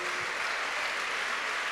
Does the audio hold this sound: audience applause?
yes